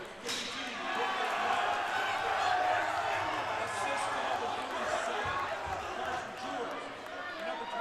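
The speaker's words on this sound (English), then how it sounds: "Good Mandan crowd right in front of us." A crowd of Mandan fans cheers loudly and steadily at a boys hockey game in an arena, with a commentator talking over the sustained roar.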